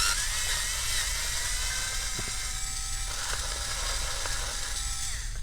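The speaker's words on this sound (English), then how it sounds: "So I'm removing the screws. There are 4 screws holding onto the battery." Screws being taken out of the battery in an Alienware M17 laptop: a steady, close electric whine runs throughout, with a few faint clicks and ticks over it and no voices.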